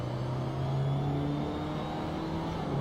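A race car engine in the Assetto Corsa driving game pulls hard under acceleration, a loud steady drone that climbs in pitch and holds close and continuous with no talk over it.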